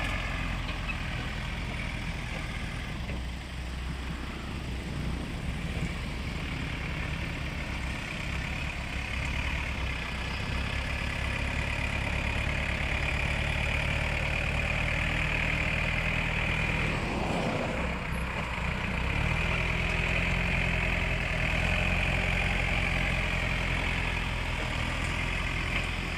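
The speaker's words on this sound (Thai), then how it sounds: "น่าจะเป็นยันมารุ่นแรกๆครับ EF453T คันนี้ สภาพก็ค่อนข้างเก่าตามสภาพครับ" An old Yanmar EF453T farm tractor idles with a steady, low diesel rumble and throb, close and unchanging for the whole stretch, with no talking.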